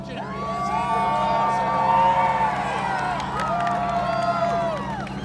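A crowd at a downtown Minneapolis street race car showrun cheers and shouts together at a distance, a steady swell of excited voices with a few whistles rising above it.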